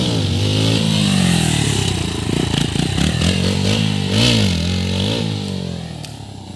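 Motorcycle engine revving hard during a stunt attempt, loud and close, with sustained throttle swells and dips over a steady roar plus some clatter and scraping.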